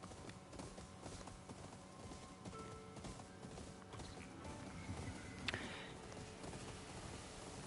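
Horse hooves clip-clop at a steady walking pace in Assassin's Creed Shadows, faint and rhythmic, with ambient game sounds and one sharper knock midway.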